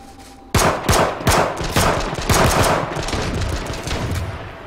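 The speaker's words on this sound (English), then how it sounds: "I'm shooting." Loud video game gunfire erupts after a brief lull, with rapid, irregular shots cracking close by and continuing in a sustained volley.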